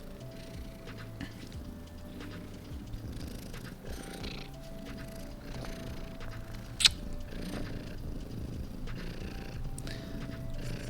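Close, steady purring from a pet cat named Kiggy, asking for food, a soft continuous rumble running the whole time, broken by one brief sharp sound near the middle.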